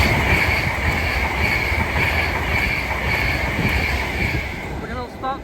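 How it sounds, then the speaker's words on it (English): Avanti West Coast Class 390 Pendolino electric train passing Stechford station on the London Euston to Glasgow Central run, a steady close roar with rail hiss and a high wheel whine. "next train to make an appearance is going to be another Class 390 Pendolino for Avanti West Coast"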